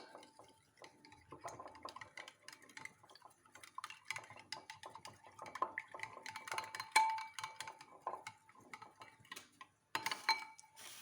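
A whisk beats crepe batter in a bowl with fast, steady ticking clinks and light scraping, close and fairly quiet, continuing nearly without pause before a brief break near the end.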